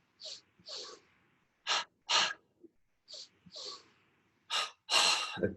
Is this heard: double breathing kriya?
yes